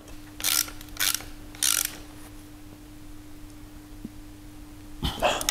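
A nut on a transfer case mount bushing of a Mitsubishi L200 4x4 is tightened with a ratchet in three short bursts of clicking, close and fairly loud, followed by a quiet pause and a final clatter.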